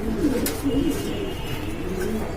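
A pair of Lakkha pigeons coos in soft, repeated low calls, close and steady, with a few faint chirps over a continuous background murmur and no speech.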